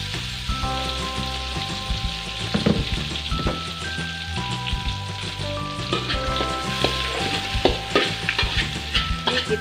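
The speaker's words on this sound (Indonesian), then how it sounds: "Ini kita tumis sampai dia berubah warna ya guys dan mengeluarkan bau harum." Chopped shrimp sautés in a pan with a busy crackling sizzle and irregular spatula stirs and scrapes, close and continuous without speech.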